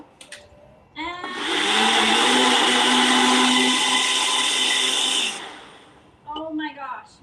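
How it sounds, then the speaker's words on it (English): A countertop blender whirs loudly and steadily for about four seconds while blending a creamy non-alcoholic piña colada in a home kitchen. The motor then cuts off, and brief speech is heard before and after the run. "put on our lid over here, get a little bit noisy with our blender"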